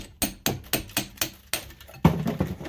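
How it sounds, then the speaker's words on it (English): Hammer lightly tapping copper through a transformer core, a series of sharp metallic knocks in an even rhythm, close and distinct, with a slightly denser cluster of taps toward the end. "Just hammer that copper through."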